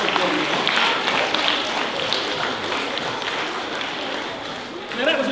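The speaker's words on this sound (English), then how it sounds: "Now that was a great round of applause" Audience applause at a magic show featuring an invisible deck card trick, a steady dense wash of clapping sustained throughout, swelling slightly at the very end.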